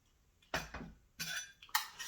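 Chicken wings are dropped into a bowl and tossed with sauce, giving a few short clinks and scrapes against the bowl in quick bursts, close and fairly quiet with no talking.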